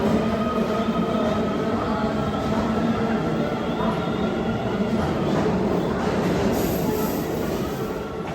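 A Keio Railway train in Tokyo rumbles steadily from on board, a loud continuous roar with faint wheel squeal and track noise, heard alone with no talk.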